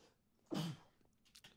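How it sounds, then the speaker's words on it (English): One abrupt, muffled sneeze from a single person, close to the microphone, followed by faint rustling and small mouth sounds in an otherwise quiet room. "Sorry, I had to sneeze, as you probably heard."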